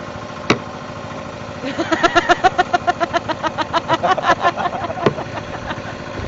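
A Land Rover engine idles steadily with a rough, noisy water pump, a continuous low mechanical drone. A voice talks over it in the middle and sharp knocks are heard near the start and end.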